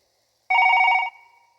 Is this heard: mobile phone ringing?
yes